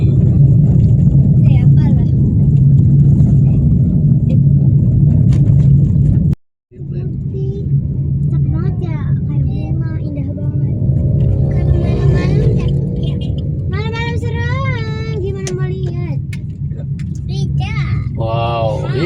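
An expedition cargo truck on a quiet road along the south coast of West Java gives a steady low engine rumble throughout, briefly cutting out before resuming, with voices talking over it.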